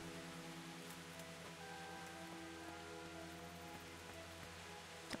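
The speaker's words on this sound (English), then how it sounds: "It's raining." Steady rain falls throughout in the medieval role-playing game Kingdom Come: Deliverance, a continuous close patter over a low game-ambience drone with faint tonal hum, no talking.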